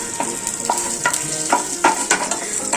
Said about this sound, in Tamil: அதை நல்லா வதக்கணும் பப்பில் பூண்டு சின்ன வெங்காயம் மிளகாய்